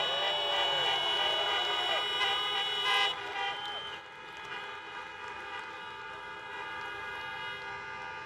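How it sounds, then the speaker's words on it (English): Car horns honk together in a sustained, layered blare at an outdoor drive-in rally for President Biden in Georgia, holding loud for about three seconds before thinning into a steady, softer chorus of horns. "Honk your horns if you've been vaccinated."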